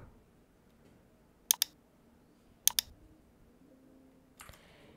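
Mouse clicks during a XAMPP install on a PC: two quick double-clicks a second apart, crisp and close in a quiet room, followed by a fainter click.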